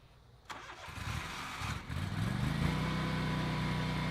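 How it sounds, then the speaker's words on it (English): A ZK autonomous robot mower's engine is started by remote: a sharp click, a cranking churn, then the motor catches and settles into a steady, rising idle hum. "I can actually turn the machine on. So check this out. Engine on is right here."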